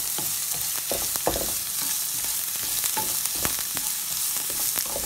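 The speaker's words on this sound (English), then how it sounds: "now I'm going to add habanero pepper and garlic. And I'll give a good stir." Onions, habanero pepper and garlic stir-fry in a pan for a vegetable stir fry, a close, continuous sizzle dotted with small clicks and scrapes from stirring.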